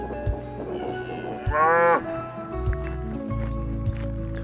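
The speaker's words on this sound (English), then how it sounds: "More cattle." Cattle on a North Devon marsh give one loud, close moo lasting about half a second over open outdoor background noise, with no talking.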